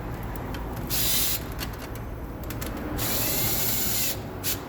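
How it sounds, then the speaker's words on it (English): A power tool drills and whirs while a bling license plate is mounted, with steady motor noise broken by several louder, higher bursts of drilling and short stops and starts, nearby and without talk. "So it always helps if you have power tools."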